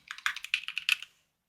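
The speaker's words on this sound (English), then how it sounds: "So I'm going to type my personal web page." Fast typing on a computer keyboard while writing a personal web page in HTML, a quick, close run of light clicking keystrokes lasting about a second before falling silent.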